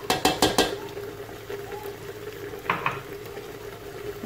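Spices including ginger, salt and black pepper frying in a pot for couscous, a quiet low sizzle under several sharp metallic clinks of a spoon against the pot at the start and again later.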